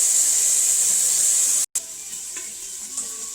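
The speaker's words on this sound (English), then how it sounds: "I'm gonna saute it a little bit just so it can have like a bit of color" Meat sautéing in a pan for Haitian squash soup, a steady close sizzle and hiss with a brief cut partway through, followed by quieter frying with faint clinks.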